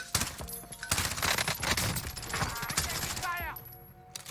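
Rapid automatic gunfire in Call of Duty: Warzone crackles in sharp bursts with clattering impacts, mixed with a voice talking over the action.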